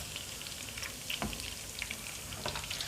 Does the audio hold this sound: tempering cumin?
yes